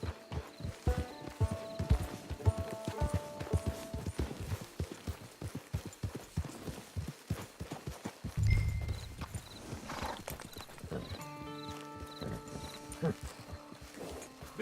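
Horse hooves clip-clop in a steady trotting rhythm in the Red Dead Online video game, with a brief whinny partway through and music and voices playing underneath.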